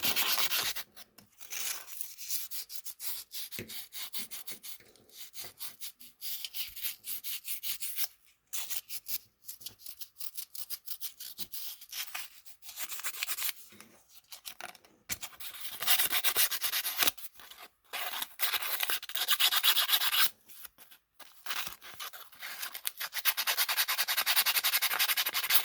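Sandpaper rubbed by hand against a furnace part, with steady rasping strokes in long continuous runs broken by short pauses, close and fairly quiet, with no talking.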